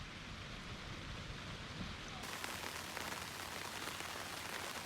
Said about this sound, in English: We get some rain.